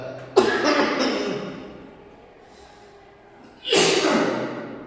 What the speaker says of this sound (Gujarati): બોલતા બોલતા ઉધરસ આવી જાય છે